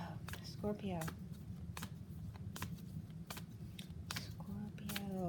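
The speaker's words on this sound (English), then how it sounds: "I'm going to shuffle again" Cards are shuffled with soft riffling and sharp snapping clicks at irregular intervals, quiet and close, while a person talks faintly in the background.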